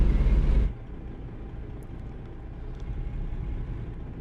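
A Kenworth truck driving in the Middle Eastern Truck Simulator game: a brief loud rumble that drops to a steady low engine drone for the rest of the clip.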